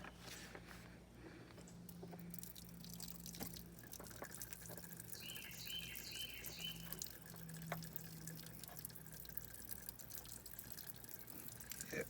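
Fuel drips and trickles faintly from a disconnected fuel line on a 1996 Ford Thunderbird during a fuel filter change, a quiet, irregular patter over low background hum.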